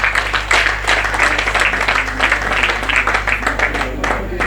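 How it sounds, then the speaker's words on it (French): An awards ceremony audience applauds steadily and densely over a constant low electrical hum, with the clapping filling the room at a loud, even level and voices faintly mixed in. "Est-ce que nous pouvons applaudir pour eux?"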